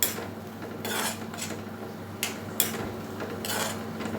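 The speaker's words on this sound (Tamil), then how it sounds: "போட்டுட்டு நல்லா மிக்ஸ் பண்ணிக்கலாம்" Snake gourd being mixed with salt in a pan, a spoon scraping and clinking against the metal in bursts separated by short pauses, a couple of sharper taps, quiet and close.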